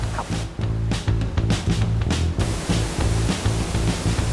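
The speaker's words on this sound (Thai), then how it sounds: "เพราะว่าตอนนี้เสียงน้ำตกดังมาก" A forest waterfall at Mueang Khong roars continuously at close range, a dense, loud rush of falling water with rhythmic surging pulses and no voices.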